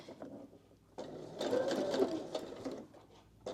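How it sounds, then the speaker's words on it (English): A sewing machine stitches fabric for a scrunchie in a steady continuous run that grows louder partway through, with a brief pause before the end. "I'm just going to stitch a little bit more because I don't want to leave that gap too big"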